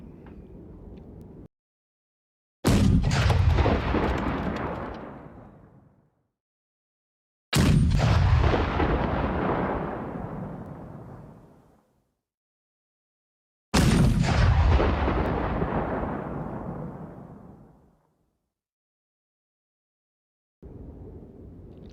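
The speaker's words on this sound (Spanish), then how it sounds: "se preparaba para comunicarle al sargento Dumat que diera la orden de disparar" Deep artillery blasts in a battlefield scene, three long booming roars that rumble and slowly fade, separated by silence, loud and heavy with no talk.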